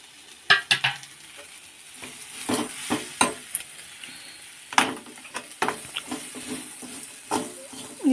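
Spices are stirred into a snack mixture in a pan, with irregular scraping strokes and soft sizzling. The scrapes recur in short bursts at moderate loudness, with no speech.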